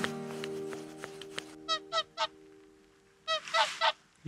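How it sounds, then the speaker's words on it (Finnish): Wild swans honk as they fly overhead at dusk in the Finnish fell country, several short calls in two bursts, fairly distant and clear over quiet surroundings. "Joutsenia lensi yli."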